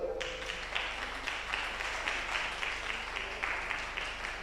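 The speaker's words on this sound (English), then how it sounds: "So, women, will you clap for yourself?" Women in a lecture audience clapping for themselves, a fairly soft, steady patter of many hands with some brief louder swells, over a low constant hum.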